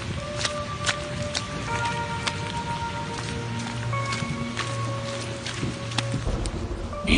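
Steady rain patters on a surface for the whole stretch, with scattered louder drops over a continuous hiss, used as a sound effect in an Urdu audio story.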